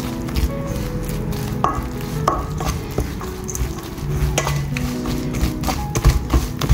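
Gram flour batter with its added ingredients is stirred and mixed in a bowl, giving steady close scraping and sloshing with occasional knocks against the vessel.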